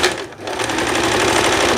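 A sewing machine topstitches the armhole lining of a dress, running steadily and loudly at high speed with a continuous rapid needle rattle after a brief dip at the start.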